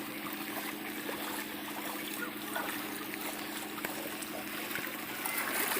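Flood water runs through Vedhampudhur village in a steady, faint, continuous rushing trickle with no clear voices.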